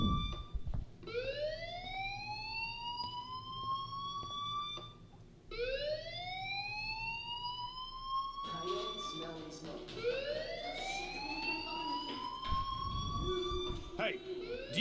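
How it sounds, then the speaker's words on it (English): A fire alarm sounds in the video game Life is Strange with a rising, siren-like wail that repeats in sweeping cycles. It plays over a low background hum, and a second layered wail joins partway through. "Hey, do you hear that fire alarm? That means you should be outside."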